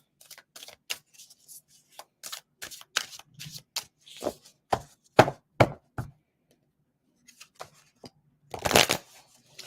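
A deck of playing cards being shuffled and handled, with a run of crisp riffling snaps and flutters, quieter pauses between, and a louder burst of riffle near the end, heard alone without talk.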